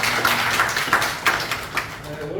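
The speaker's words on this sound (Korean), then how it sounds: "다 같이 한번 박수를 드리겠습니다" A church congregation at a morning men's fellowship service claps together, a steady patter of hand claps with a few louder accents, fairly close and filling the room.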